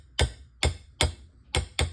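A ball peen hammer strikes a long punch while stripping a 1777 Charleville musket, giving five sharp metallic taps at an uneven pace, close and clear with no talking.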